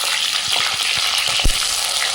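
Green chillies and onion fry in hot oil in a pan for a mushroom curry, giving a loud, continuous close sizzle with a few stirring scrapes and a brief knock.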